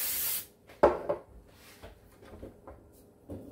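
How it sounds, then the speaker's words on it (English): Cooking spray hisses onto the bottom of a cake pan for fruit-topped coconut cake in a home kitchen, one short loud burst followed by faint scraping and handling noises. "Spray the bottom good so that it flips out easy since it's got fruit in it."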